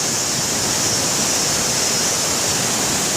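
A big waterfall in West Sumbawa roars as a loud, steady, broadband wash of falling water, close and unbroken, with no voices.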